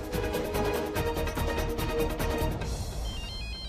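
A phone ringtone rings steadily for a few seconds in a TV drama scene, a bright repeating electronic pattern that cuts off abruptly, with no talk over it.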